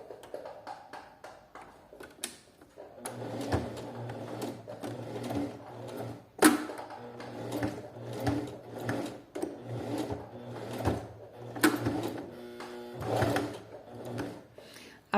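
A sewing machine backstitches a fabric jewelry box pocket two to three times to reinforce it, its close, steady whirring motor running in repeated short bursts with brief pauses and small clicks between passes.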